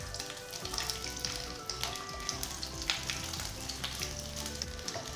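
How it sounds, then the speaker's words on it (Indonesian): Dried shrimp fry in hot oil in a pan, a steady close sizzle and crackle with faint stirring scrapes running throughout, no voices. "Tumis udang kering."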